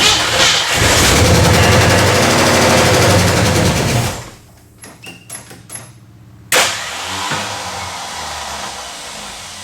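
A worn-out starter motor cranks the 289 engine of a 1964 Ford Galaxie with a loud, steady whirring grind for about four seconds. It is followed by a few sharp clicks and a heavy clunk, with no start.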